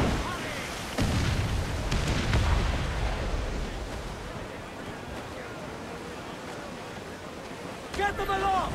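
Ship cannons fire in a naval battle in Assassin's Creed IV Black Flag, heavy booms rolling out over surf and creaking timbers, with crew voices shouting through the clip and a sharp crackle near the end.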